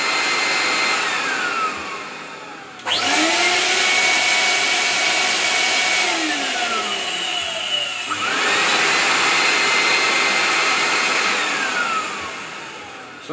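CamVac high-filtration dust extraction system running with its hose attached, a loud steady motor roar and airflow hiss that drops briefly and restarts, alone without talk.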